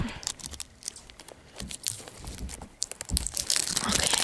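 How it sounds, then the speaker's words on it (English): Plastic shrink wrap crinkles and tears as it is peeled off a Zelda Ocarina of Time 3D game box for the 3DS, close and irregular, with crackles building louder toward the end. "Unwrapping the wrap."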